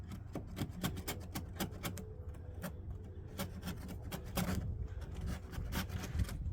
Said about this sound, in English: He has a wood chisel up there.